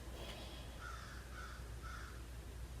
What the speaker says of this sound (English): Those birds are really loud outside.